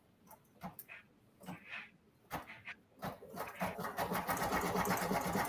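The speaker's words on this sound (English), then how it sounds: "we will lower the presser foot and stitch that out" An embroidery machine stitches an in-the-hoop turkey mask for kids. Scattered clicks and thumps come first, then a steady, close, rapid needle rattle builds and continues.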